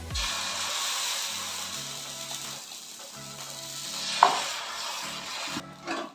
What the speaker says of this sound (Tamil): இப்போ இதை வந்து நான் உங்களுக்கு தோசை ஊற்றி காட்டுறேங்க